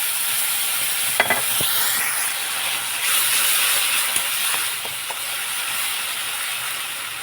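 Ground tomato and onion paste hits hot oil already spiced with cracked whole cardamom, giving a steady broadband sizzle with a few sharp pops and spatters near the start, stirred throughout at close range.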